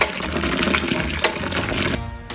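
Homemade single-malt whisky mash being stirred with rinse water: a dense, loud sloshing and churning of wet grain and liquid that carries on steadily, then stops abruptly near the end, with no voices.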